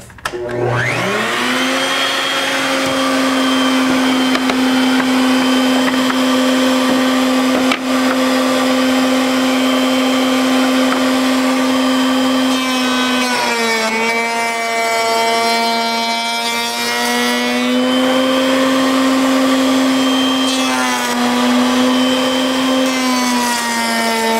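A router fitted with a 1.5-inch Freud bit spins up to about 18,000 RPM with a loud, steady high-pitched whine that holds for over twenty seconds, with a slight dip and rougher texture partway through.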